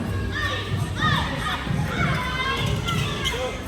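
Spectators at a company house cup basketball final shout and cheer continuously, children's voices prominent, with thuds from the court and a commentator talking over the noise.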